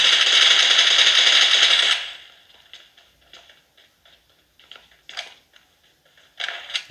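Gunfire in the mobile game PUBG Mobile: two seconds of dense, rapid automatic fire followed by scattered sharp single shots and short bursts, fairly loud and without speech.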